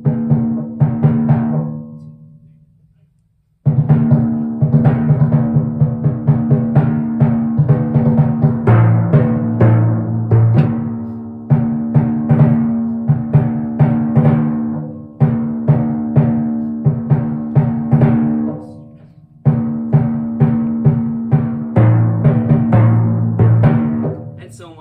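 Timpani playing a Hallelujah excerpt with accents on the dominant, resonant pitched drum strokes in repeated rhythmic phrases with a brief pause near the start, loud and close.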